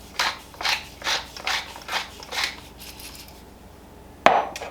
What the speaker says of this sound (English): some black pepper, and this takes 1/8 of a teaspoon. I'm just going to grind a little bit in there